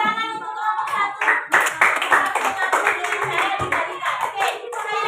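A classroom group claps for the first team in a teacher training session, a dense burst of hand claps mixed with voices and cheering, loud and close throughout.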